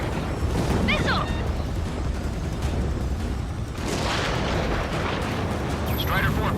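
Missile explosions and battle noise from the aerial combat game Ace Combat 7, a continuous rumbling roar with bursts of louder blasts and faint radio chatter.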